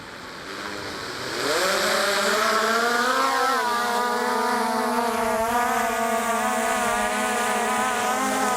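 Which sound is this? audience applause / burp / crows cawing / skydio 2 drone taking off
skydio 2 drone taking off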